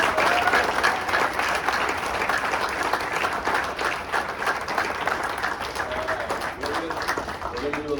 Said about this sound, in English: I just think we should give John a round of applause